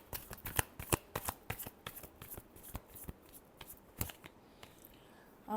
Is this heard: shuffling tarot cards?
yes